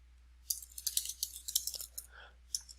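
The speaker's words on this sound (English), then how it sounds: "we're gonna actually type in the rest of this" Quick, irregular clicks of typing on a computer keyboard, close and fairly quiet, with a short pause near the end before a final few keystrokes.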